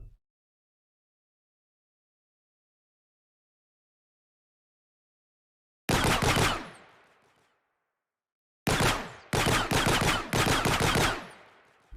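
Weapon shots from the Unreal Lyra starter game's rifle and shotgun, heard after long silence as a single sharp blast with a decaying tail, then three quick loud reports in a row, close and clean.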